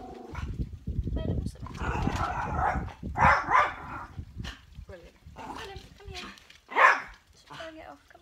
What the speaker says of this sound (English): I can hear the dog.